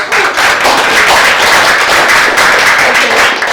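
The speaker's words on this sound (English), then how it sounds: "Let's give her a round of applause." Dense, sustained clapping from an audience at a university real estate association talk fills the room loudly and evenly from start to finish, with no talk over it.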